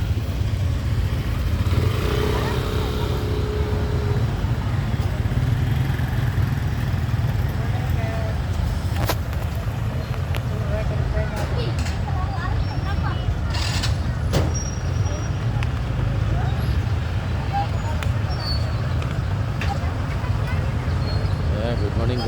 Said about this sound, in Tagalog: Electric jeep.